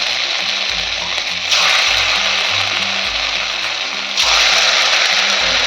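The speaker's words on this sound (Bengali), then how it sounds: "তেলটা ভালো মতন গরম হয়ে গেছে। আমি আস্তে আস্তে একটা একটা ভেজে নেব।" Beetroot dhoka pieces frying in hot oil in a kadai, a loud, continuous close sizzle that swells as more pieces go in, with a low rumbling hum underneath.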